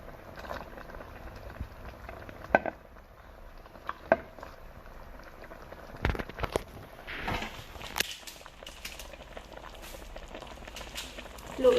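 Bamboo shoot stew with crab bubbling in a pot, a quiet, steady simmer with scattered pops and clinks, heard up close and without talking.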